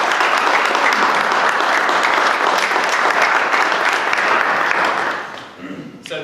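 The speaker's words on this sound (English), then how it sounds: "let's just give our guest speaker a quick round of applause" A seated audience claps in steady, dense applause for a guest speaker after a debate talk, lasting several seconds before fading out, followed by a brief voice near the end.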